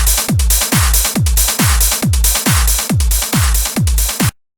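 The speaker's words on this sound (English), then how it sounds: "Now it compresses all the sound all the time." Drum beat squashed by a compressor at infinite ratio with a 1 ms attack, about nine heavy booming kick-style hits in an even loop, each one flattened to the same loud, dense level, with no talking.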